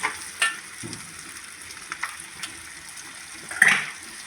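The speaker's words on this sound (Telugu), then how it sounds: "మనం కట్ చేసి పెట్టుకున్న బెండకాయ ముక్కలు జిగురు పోయే వరకు మంచిగా నూనెలో వేపుకోవాలి" Cut okra pieces frying in oil, a steady soft sizzle with a couple of sharper pops and stirring scrapes, close and alone.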